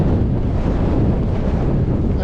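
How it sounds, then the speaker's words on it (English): Strong wind buffets the microphone on an exposed hillside section of a trek across Eryri, a loud continuous low roar with no break and no clear speech. "this has been a very windy and exposed section"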